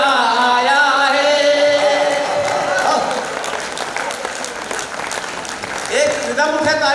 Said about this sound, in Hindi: एक रिदम उठे तालियों की